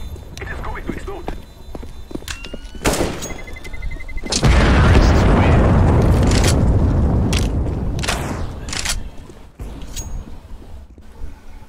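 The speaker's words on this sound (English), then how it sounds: "It is going to explode." A bomb detonates in the CS:GO video game: a loud, broad blast erupts midway and rumbles for several seconds, surrounded by sharper game noises and voices talking.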